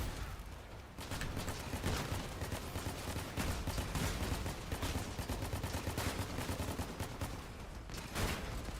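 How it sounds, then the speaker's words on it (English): Sustained, rapid video-game gunfire as another player shoots at the player's build, continuous heavy bursts of shots throughout with no talking. "This guy's shooting me like there's something that can explode on my build."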